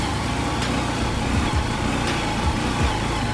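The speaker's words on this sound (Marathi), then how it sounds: "गाडी फर्स्ट गेअरला आहे, चढतच नाही" A car engine labours uphill in first gear on a monsoon road to a trek near Mumbai, a steady close drone with periodic low surges and no talking.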